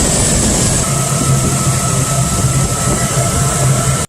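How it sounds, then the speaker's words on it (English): A Chevy engine idles with its brake booster vacuum hole plugged, giving a steady, loud, even rumble with a low droning hum that holds for the whole stretch. No one speaks. "this is what the idle sounds like with the hole plugged"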